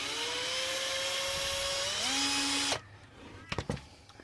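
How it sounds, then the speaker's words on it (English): A power drill countersinks screw holes in a cable reel, whining steadily and loudly, its pitch rising as it speeds up before stopping, followed by a few light clicks and handling knocks. "I would like to countersink those, just so they're not hanging out as much."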